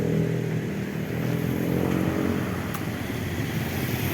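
Yamaha R6 motorcycle at a motor shop, its engine idling steadily at a constant level throughout, a low continuous rumble with slight unevenness and no talk.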